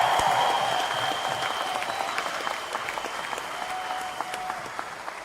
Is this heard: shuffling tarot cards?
no